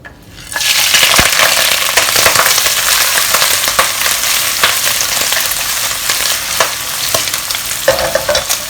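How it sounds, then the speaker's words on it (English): Prawn heads and shells fry in hot oil in a wok for seafood congee, giving a loud, steady crackling sizzle with sharp pops and spatters throughout. "when it's hot, we'll put in the prawns head as well as the shell"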